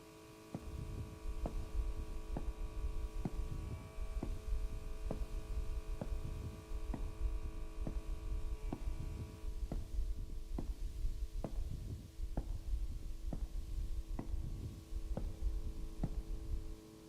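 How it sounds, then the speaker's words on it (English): A steady electrical hum from buzzing incandescent lights in a video game, with a faint high buzz, overlaid by soft, regular low thumps like a slow pulse, continuous and without voices. "incessant buzzing of the incandescents above does have a sort of white noise effect on my mind"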